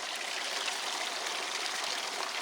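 Water rushes fast down the sluice of a green gold wash plant with a Gold Fox trommel. It is a loud, steady, broadband roar and splash with no pauses.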